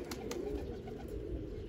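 Pigeons, including a Chinese-type pigeon kept at a loft, coo softly and low in a steady murmur, with a couple of faint sharp chirps over a constant background hiss.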